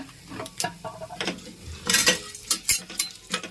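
Lentils frying in a pan with turmeric and asafoetida being added, a tomato and onion home dish: bursts of stirring and utensil scrapes over a low sizzle, irregular and close, with no talk.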